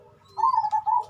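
A zebra dove (perkutut) coos nearby in a bird breeding setting, a short run of rhythmic, clear, mellow coo notes rising out of a quiet background.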